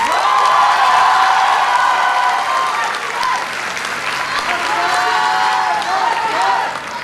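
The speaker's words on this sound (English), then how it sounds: "I feel first year representation in this Antaragni 2022 needs a big round of applause" A big round of applause at the Antaragni 2022 techno-cultural college festival, loud sustained clapping from a large crowd with some cheering mixed in, tapering near the end.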